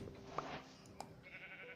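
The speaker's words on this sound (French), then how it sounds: "Un mouton, ça va être utile pour faire un lit." Sheep bleating in the Minecraft video game, a short single game-sound bleat over quiet in-game ambience with a few faint clicks and soft background tones.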